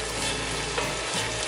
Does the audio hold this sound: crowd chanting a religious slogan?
no